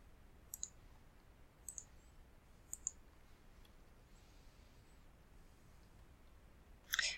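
A computer mouse clicks a few times, sharp single and double clicks spaced a second or so apart, close but quiet, with a slightly louder click cluster at the end over faint room hiss.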